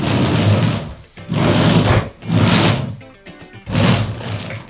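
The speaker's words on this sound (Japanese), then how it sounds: "じゃあ早速このゲームパッドで S1 動かしてみましょうか。" A DJI RoboMaster S1 robot driven with a gamepad, its motors whirring in four loud, close bursts of movement with short gaps between them.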